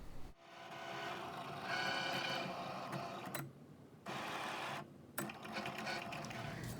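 A Cricut machine cuts vinyl for a car decal, its steady mechanical whirring and carriage motor hum running continuously with two brief pauses, fairly quiet and close.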